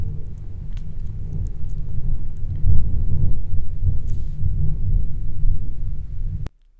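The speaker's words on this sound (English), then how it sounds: "Thunder." Thunder rumbles low and long through a rainy thunderstorm, loud and steady for several seconds before cutting off abruptly near the end.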